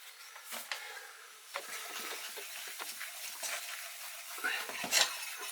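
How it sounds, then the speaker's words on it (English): Flour being stirred into a pan for a Mornay sauce for eggs, a spoon scraping and clinking against the pan in irregular strokes over a soft sizzle, close and fairly quiet. "into that you want a tablespoon or just less of flour, like that, and then you stir it in"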